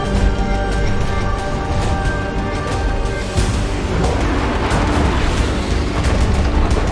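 Point-blank gunfire in ARK: Genesis 2, aimed at an Ice Titan during taming: a dense, continuous barrage of loud booming shots and blasts that runs without a break, up close, with no voices.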